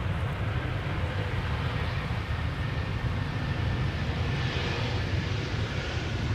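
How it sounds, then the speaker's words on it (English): An Icelandair Boeing 737 MAX 8 touching down at Amsterdam Schiphol, a constant broad roar of engine and rolling noise held at an even level throughout, heard alone without voices. "Iceland Air flight 506, 737 MAX 8, now touching down after 2 hours and 34 minutes of flight"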